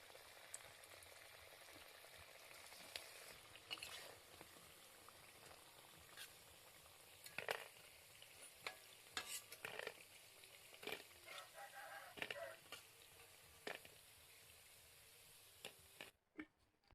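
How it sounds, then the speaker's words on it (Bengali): Onion stalk pakoras frying in hot white oil, a steady faint crackling sizzle with scattered sharper pops, close by, with a rooster crowing in the background and no talking; the sound cuts off at the end. "পেঁয়াজ কলির পকোড়া ভাজার জন্য এখানে সাদা তেল গরম করতে বসিয়ে দিয়েছি"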